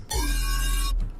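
A sustained synth chord with a wide, shimmering chorus effect, rich in bright overtones, holding for about a second before cutting off.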